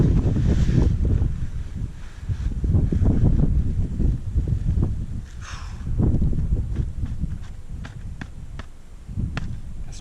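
Strong outdoor wind buffets the microphone in a loud, continuous roar with gusting surges while planting in desert ground, with no talking.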